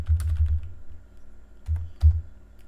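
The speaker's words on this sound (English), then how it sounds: "I'm still trying to get used to the keyboard and everything." Keys clack on a computer keyboard in quick close bursts, a run of rapid taps followed by a pause and then two more short clusters, with no voices.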